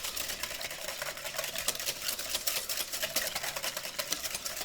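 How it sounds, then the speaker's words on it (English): A whisk beats chocolate sauce in a bowl in a rapid, steady run of close, crisp metallic ticks and scrapes, with no talking. "I'm just going to whisk this, start in the center, get myself a little emulsion going."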